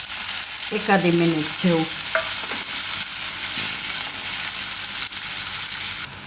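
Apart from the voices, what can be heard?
onions frying in a pan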